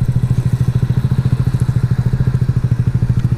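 A motorcycle idling with a steady, fast thumping engine pulse, loud and close, as the rider prepares to attempt a stoppy on a slick wheel.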